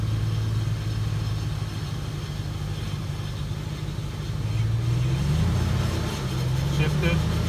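A 2003 Chevy Suburban with a rebuilt 4L60E automatic transmission drives along, engine droning steadily and rising as it accelerates through gear changes, heard from inside the cabin under road rumble.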